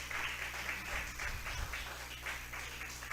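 Applause from a church congregation, a steady, fairly faint patter of clapping with a low hum beneath it and no voices over it.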